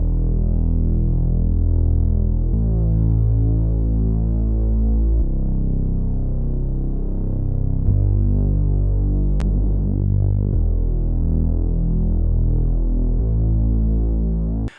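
A Reese bass synth with pulse width modulation drones thick and low, a detuned throbbing hum shifting pitch in blocks every few seconds, loud and continuous with a brief click midway.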